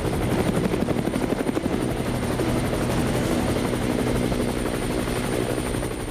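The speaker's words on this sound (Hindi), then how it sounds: "तभी अपाचे हेलीकॉप्टर की गड़गड़ाहट से" An Apache attack helicopter thunders loudly overhead, its rotor beat a continuous, throbbing roar that fills the scene without any voices.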